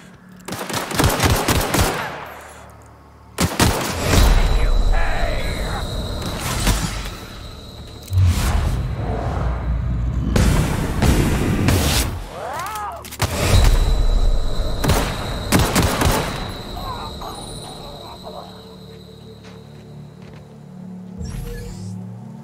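Guns firing in The Outer Worlds video game: several loud bursts of rapid automatic fire and heavy booms, separated by short pauses, with whooshes and thuds, close and forceful.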